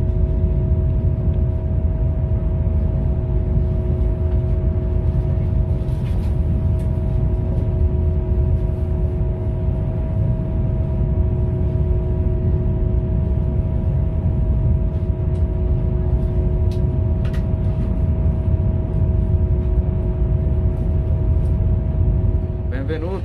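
Frecciarossa 1000 ETR 400 high-speed train heard on board as it picks up speed again after an emergency brake: a continuous low rumble with two steady whining tones held throughout, plus faint clicks.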